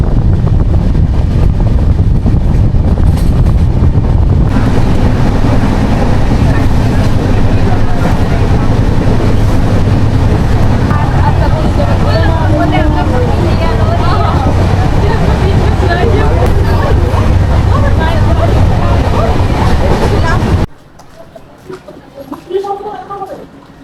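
Loud, steady rumble of a passenger train running on the Howrah to Digha route, heard from inside with heavy wind buffeting the microphone, continuing for about twenty seconds before cutting to a much quieter stretch.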